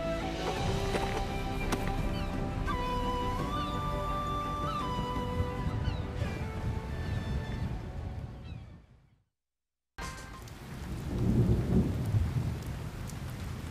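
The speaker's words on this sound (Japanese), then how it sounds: "嵐が来ますね、 父上。" Heavy rain pours steadily in a Samurai Warriors 4 cutscene storm, with rolling thunder under it; the sound cuts out briefly near the end, then rain and a deep thunder rumble return.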